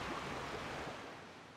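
Water rushes and churns in a steady, faint wash like surf in The Legend of Zelda: The Wind Waker HD, with no voices over it.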